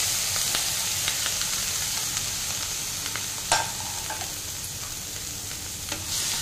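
Tomato, onion, green chili and potato are stirred together in a kadai, a steady loud sizzle with scraping and a few sharp clinks of the spoon against the pan.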